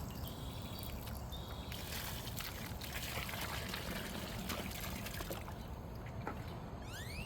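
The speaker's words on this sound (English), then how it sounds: "I'm gonna try and pour a little bit of water at the bottom first" Water poured out of a leaky bucket into a dug post hole at a shop construction site, a soft continuous trickle and splash running steadily under faint background noise.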